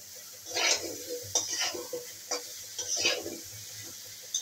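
Spatula stirs potato, eggplant and kohlrabi in a pan with oil, giving bursts of scraping and sizzling at irregular intervals, close and fairly loud, over a quiet background hiss.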